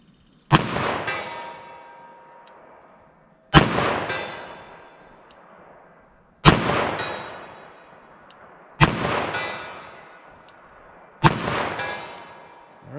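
.44 Special revolver fired five times at distant targets, each a sharp loud crack with a long decaying echo, spaced roughly every three seconds with no talking.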